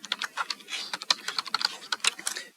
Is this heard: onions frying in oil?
no